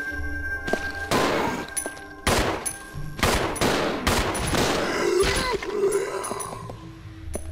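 Gunfire at a zombie in Resident Evil 0 HD Remaster: a run of loud, close shots fired in quick succession, each ringing off before the next, under a little background noise.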